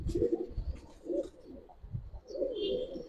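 Giribaz pigeons at a seller's in Old Dhaka give soft, close, repeated low coos in several short bursts, with no talking.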